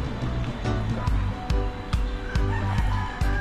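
Chickens at a bonsai garden in U.P. Diliman cluck and crow amid a repeating rhythmic thumping, fairly close, with a voice faintly in the background.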